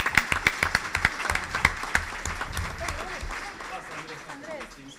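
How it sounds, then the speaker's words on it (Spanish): An audience welcomes a speaker to a public-service panel discussion with applause that begins as sharp, distinct claps and thins over a few seconds into a softer, fading patter, heard from some distance in a reverberant hall. "a quien recibimos con un caluroso aplauso."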